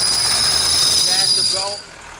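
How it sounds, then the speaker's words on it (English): A diesel bus turbo, apparently running on an HHO setup, spools up with a loud high whistling whine over engine rumble, then fades quickly near the end of a brief burst. "Doesn't that turbo spool up nice?"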